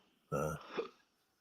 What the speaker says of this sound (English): I've got the hiccups now.